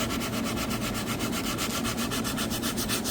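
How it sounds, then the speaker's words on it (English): Steady, continuous abrasive rubbing of sandpaper along a wooden shelf edge during a kitchen remodel, rounding off the sharp corner, with a rhythmic back-and-forth scratch running loud and close throughout. "Get this nice and sanded here."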